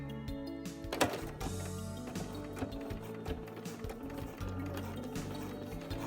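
A sewing machine stitching a half-inch seam on a spring coat, its motor running with a rapid mechanical chatter and clicks, close and steady through the whole stretch.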